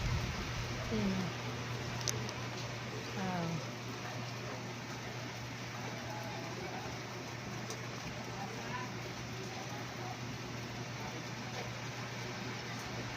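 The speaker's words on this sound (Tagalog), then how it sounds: "Okay lang baga mga ganito lang na klaseng ulan, huwag lang babaha." Light rain falls in strong wind as a steady, continuous hiss throughout, with a voice briefly heard near the start.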